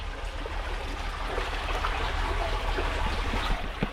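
Steady rushing and trickling of water flowing along a small canal in a dense forest, continuous and fairly close, with no voices.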